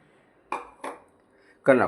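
Utensil clinks and scrapes against a bowl while gram flour batter is mixed for puffed rice bhajiya, three short bursts with brief pauses between them, close and moderately loud.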